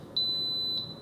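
An Instant Pot electric pressure cooker gives a single steady high-pitched beep at the end of cooking. The tone holds for most of the second over a quiet room background.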